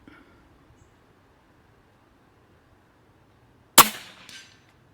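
A single JTS Airacuda Max .30 caliber air rifle shot cracks out sharply after a near-silent stretch, followed by a short fading ring and a faint metallic tick.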